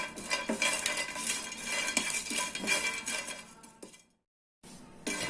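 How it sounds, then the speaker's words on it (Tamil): Whole spices such as cinnamon, cloves, marathi moggu, nutmeg and cardamom dry-roast in a pan while being stirred, with soft scraping and light clinks of a spoon against metal, a brief pause, then stirring resumes. "இதெல்லாம் போட்டு நல்லா வறுத்துக்கலாம்."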